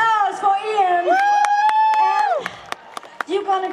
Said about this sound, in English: A big applause for Ian.